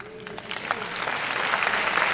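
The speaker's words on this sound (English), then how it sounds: "Don't clap, don't clap, don't clap." An audience breaks into applause, starting light and swelling into steady, dense clapping that fills the room.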